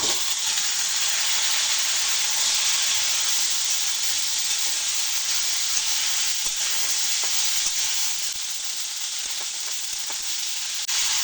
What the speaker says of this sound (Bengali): এখন সিম আর আলুগুলো এর সঙ্গে আরও ভেজে নেব।